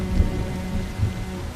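Steady rain falls in a continuous, even hiss with a few slightly heavier gusts, close and alone without any voices.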